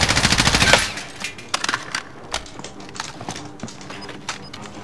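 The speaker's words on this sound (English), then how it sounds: "Oh yeah, we're getting shot at." Gunfire in a multiplayer shooter video game, a rapid automatic burst of loud shots that stops after about a second, followed by scattered sharper single cracks and softer impacts at a distance.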